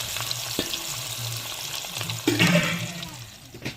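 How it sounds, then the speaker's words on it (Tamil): Onion and green chilli sautéing in a pan for green peas rice, a steady soft frying crackle with a few louder stir scrapes and clatters, no voices. "வெங்காயம் பச்சை மிளகாய் நல்லா வதங்கி வரட்டும்"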